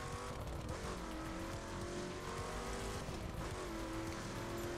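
Car engine in the driving game The Crew, a steady loud motor drone with rising and shifting pitch as the car is driven, alone without talk.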